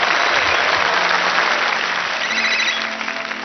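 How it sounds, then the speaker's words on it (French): Audience applause at a magic show, a dense, loud sustained clapping from a crowd with a faint whistle-like tone, tapering slightly toward the end. "Je vous demande d'applaudir Alpha."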